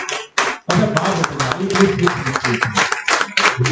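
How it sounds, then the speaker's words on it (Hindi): An audience claps to welcome a guest speaker named Rashtrapal at a Bareilly CNT gathering, steady applause swelling after a brief pause and continuing under a speaking voice. "तो मैं एक बार तालियों से चाहूंगा कि आप स्वागत करें राष्ट्रपाल"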